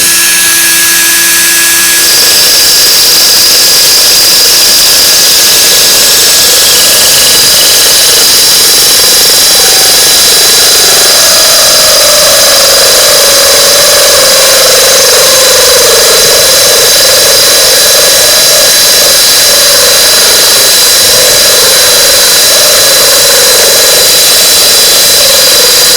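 A power drill with a diamond bit, used with water, bores drainage holes in a planter with a loud, steady high-pitched whine and grinding hum that runs without a break for nearly half a minute.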